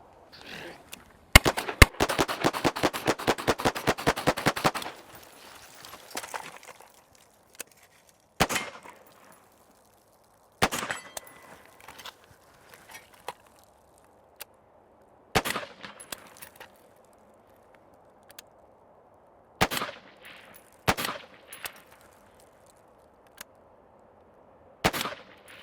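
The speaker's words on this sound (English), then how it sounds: "So let's go ahead and load up and shoot this thing." A rifle fires outdoors: a fast string of sharp, loud shots early, then single spaced shots with quiet gaps between them.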